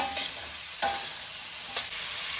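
Pumpkin and carrot stirred gently in a hot pan, a continuous soft sizzle of frying with a couple of sharper scraping strokes of the spatula, close and clear with no talk.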